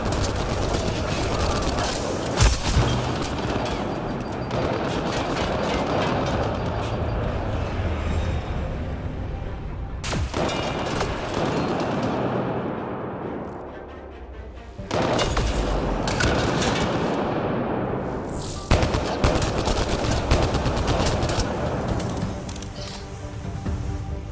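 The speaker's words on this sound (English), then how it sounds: "Enemy fire! Careful!" Enemy gunfire in Mass Effect Andromeda rattles in dense, continuous bursts of rapid shots with booming impacts, loud and close, broken by brief pauses before firing resumes.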